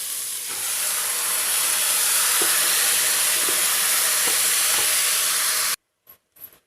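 Quail pieces drop into a cooking tomato and onion gravy with a loud, steady hiss of sizzling that runs for several seconds, then cuts off abruptly, leaving two brief faint clatters.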